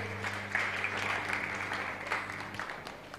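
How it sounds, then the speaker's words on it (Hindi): An audience claps and applauds for a few seconds at a live event, a fairly faint, continuous patter of hands over a low background hum. "जोरदार तालियां हो जाए"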